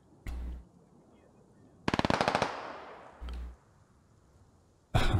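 Gunfire in the video game Squad, short separate bursts of automatic fire with sharp closely spaced shots, one longer rattling burst in the middle and a final burst at the end, separated by quiet gaps.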